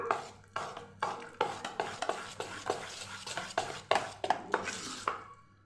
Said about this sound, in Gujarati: બધું સરસ મિક્સ કરી લઈશું।